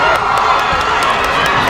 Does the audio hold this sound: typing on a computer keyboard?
no